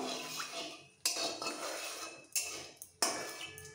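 A spatula scrapes and clinks around a pan as tempering spices and a pinch of asafoetida are stirred in hot oil, with three or four sharp strokes over a steady soft background, close and fairly quiet.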